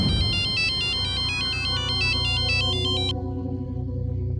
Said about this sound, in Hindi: मुझे साहब का फोन आया